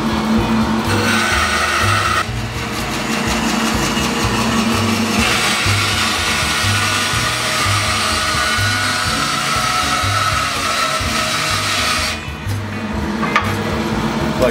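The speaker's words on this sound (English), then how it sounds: "I'm going to do that with the bandsaw" A bandsaw cutting a thin slice of wood for a rumba box bridge, a loud steady whirring drone with a continuous buzzing cut that carries on for over ten seconds before briefly easing off.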